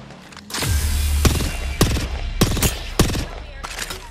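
Gunfire in Apex Legends: loud, close bursts of rapid automatic shots, several separate volleys with brief pauses between, over a low rumbling background.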